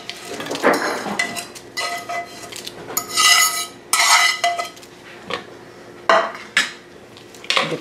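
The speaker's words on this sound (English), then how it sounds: "Then we're going to go ahead and add in our bacon" Bacon pieces tipped into a carbonara pan and stirred, with repeated metallic scrapes and clanks of a utensil against the pan in an uneven rhythm, close and fairly loud, with no talking.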